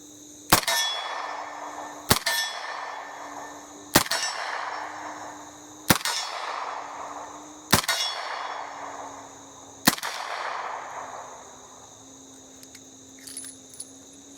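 Six sharp shots crack from a Colt Official Police .38 revolver fired double action, spaced about two seconds apart. Each is loud and near with a ringing tail outdoors, where faint insects chirp.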